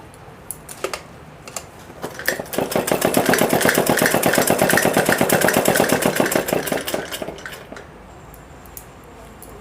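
A sewing machine runs a stitching pass along the shoulder seam of a girl's suit, a rapid, even mechanical rattle that swells in the middle and trails off, with scattered clicks before and after and no speech.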